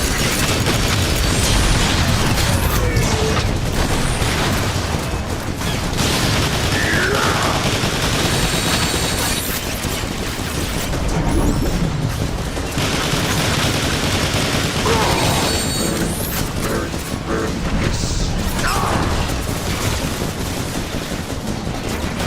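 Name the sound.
turret gunfire in the video game War for Cybertron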